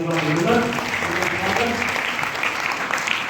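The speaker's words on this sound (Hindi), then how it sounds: "जोरदार तालियों के साथ" Audience applause at an Arya Samaj gathering at a gurukul in Hisar, a steady crowd clapping that runs throughout, with a voice speaking over it near the start.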